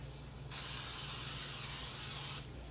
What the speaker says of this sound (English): I'm going to go ahead and spray my baking dish with olive oil